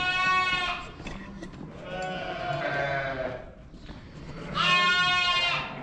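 Bottle-fed lambs on a farm bleating loudly and insistently for milk, three long wavering cries close by with brief gaps between, alone with no talking.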